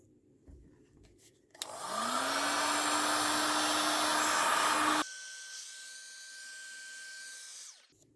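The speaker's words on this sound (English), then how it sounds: "So I finally got it off by heating with a heat gun." A heat gun warms a front wheel bearing on a Hyosung scooter, switching on with a loud steady whooshing blower roar with a rising whine, then dropping to a quieter hum before stopping.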